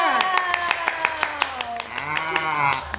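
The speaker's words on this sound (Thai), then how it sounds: "เสียงปรบมือมา เสียงปรบมือมา" A small audience gives a brisk burst of handclaps during a comedy food variety show at a restaurant, with loud voices talking and laughing over and across the claps.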